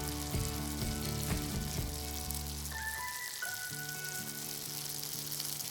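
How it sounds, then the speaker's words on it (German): Meat-stuffed button mushrooms fry filling-side down in a hot pan, giving a steady, close sizzle that runs the whole time beneath light background music. "Eine Weile braten."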